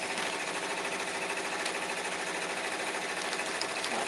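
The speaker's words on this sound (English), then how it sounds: "Hopefully you all can hear me over the embroidery machine because I want it to keep running." An embroidery machine runs steadily and loudly throughout, a dense rapid mechanical whirring and needle chatter with no pauses and no talk.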